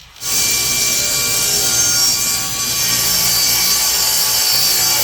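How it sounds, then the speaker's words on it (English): Handsaw cutting through wood to make mortise and tenon joints for a cabinet base, a steady, loud continuous rasping that runs unbroken from start to finish with no talk. "Let's cut these mortise and tenons out of this."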